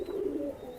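A single short coo from a Pakistani highflyer pigeon, a Bratel Teddy, at a loft in Khulna, close and fairly loud against a quiet background.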